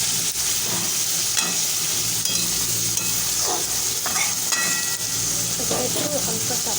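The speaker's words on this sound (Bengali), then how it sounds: "এবারে মশলাটাকে ভালো করে কষিয়ে নিচ্ছি।" A spice paste with ginger and tomato fries in a pan while a spoon stirs it, producing a loud, continuous sizzle broken by scraping and clattering strokes at an uneven rhythm.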